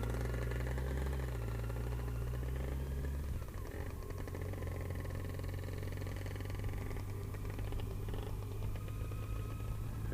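English two-stroke scooters idle at a fuel stop in France, their steady buzzing drone continuous and close, with a slight shift in tone partway through as an engine note changes.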